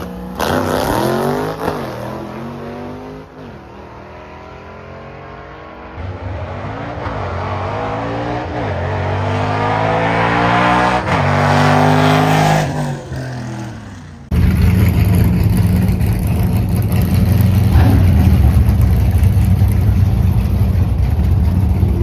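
A drag race car out road testing during Drag Week prep roars close by, its engine revving and climbing through the gears before sweeping past. A steady, loud rushing roar follows, with no voices.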